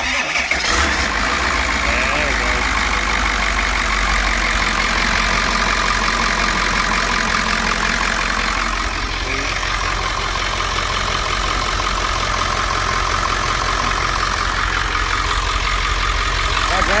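A 7.3L Powerstroke diesel engine in an ambulance idles steadily and loudly up close, a dense continuous rumble with a brief start-up burst at the beginning.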